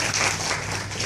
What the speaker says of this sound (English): let me also give you another round of applause for your excellent work